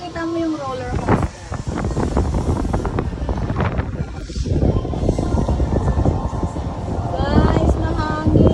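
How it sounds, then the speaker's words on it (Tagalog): Strong wind buffets the microphone in a constant roaring rush, with voices talking over the gusts, heard from a swaying ferris wheel gondola. "Guys, mahangin."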